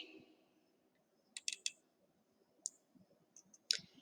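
A few faint, sharp computer mouse clicks, single and in quick pairs, sound close against a quiet room background.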